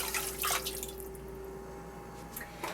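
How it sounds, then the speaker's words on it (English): Beef bones for bone broth get a quick rinse under running water in a sink, a faint trickle and splashing close by, with no voices. "You just wanna do a quick rinse."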